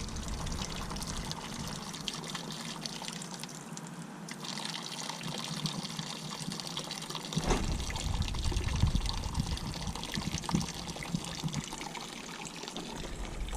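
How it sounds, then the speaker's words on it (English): Engine coolant pours in a steady, close liquid stream, a continuous splashing trickle that swells and thickens partway through before easing off. "There's the coolant."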